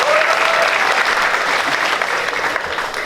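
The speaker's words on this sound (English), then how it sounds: "Round of applause for Steve again." A room full of people at a Middlesbrough Circle magic show applauds, with dense, loud clapping that fills the clip and eases slightly toward the end.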